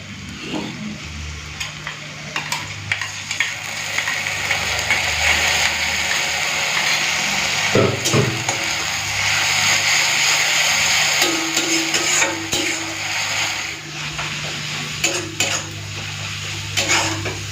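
Ginger garlic paste fries in hot oil in a pan, a continuous close sizzle with repeated metallic scrapes and taps of a spatula stirring against the pan throughout, no talking.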